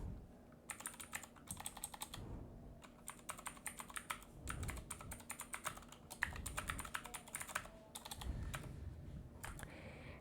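Steady bursts of close typing on a computer keyboard, quick clicky keystrokes in several runs separated by short pauses, with no voices.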